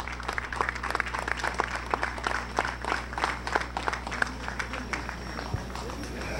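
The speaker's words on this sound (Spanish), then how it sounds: "ahora la explosión de aplausos de parte del público" Outdoor crowd applauding in a town's main plaza during a public farewell gathering, dense sustained clapping with sharp individual claps standing out over a low steady hum, fairly close and continuous throughout.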